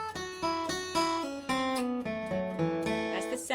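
Acoustic guitar playing a quick bluegrass-style flat 3 to 2 lick, a rapid run of bright plucked notes descending in pitch, each attack crisp and close, heard alone.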